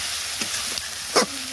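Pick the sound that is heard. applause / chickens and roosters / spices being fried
spices being fried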